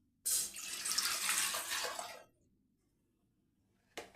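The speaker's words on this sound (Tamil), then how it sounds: "தண்ணி ஊற்றிக்கலாம்" A steady rush of water pouring from a tap into a cooking pot for about two seconds, then stopping, with a brief splash returning at the end.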